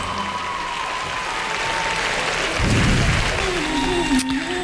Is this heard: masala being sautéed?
no